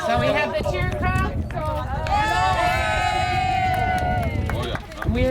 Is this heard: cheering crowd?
yes